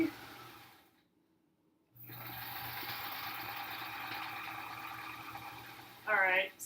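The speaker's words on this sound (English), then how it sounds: "Full speed sewing." A domestic sewing machine runs fast and steadily while stitching quilt pieces for an hourglass block, a continuous mechanical whir after a brief near-silent pause, ending in a short higher whine.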